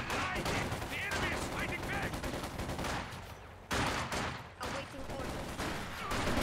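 Dense, continuous battle gunfire from the real-time strategy game Company of Heroes 2 in a 2v2 match, with a sniper rifle shot among heavy overlapping fire and explosions, loud throughout with a brief dip near the middle.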